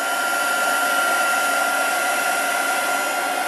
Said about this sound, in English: grab my heat tool, and this is where things are going to get noisy